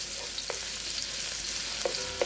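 Garlic and ginger frying in oil in a pan while making Thai basil shrimp, a steady close sizzle with a few sharp stirring clinks and scrapes, no talking.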